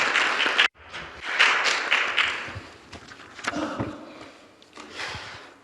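An audience at a forum on green technology and net zero applauds, with dense clapping that cuts off briefly and then resumes, thinning into scattered claps before swelling again.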